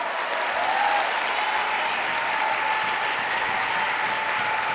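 Sustained audience applause at a climate justice speech, a steady dense wash of clapping from a large crowd filling the whole stretch without pause.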